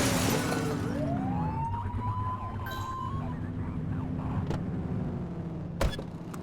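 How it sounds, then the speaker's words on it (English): A police car siren in The Precinct video game gives a short blip, its tone sweeping up and holding, followed by faint engine and street noise. "Get behind them and blip the siren and make them pull over."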